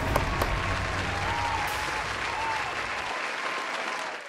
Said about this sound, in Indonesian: ayo kita beri tepuk tangan yang meriah dulu kepada Lucky